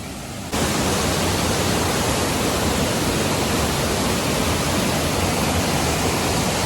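The Seetharkundu waterfall near Kollengode in Palakkad, Kerala, gives a loud, constant broadband roar of falling water that fills the clip without a break, with no voices.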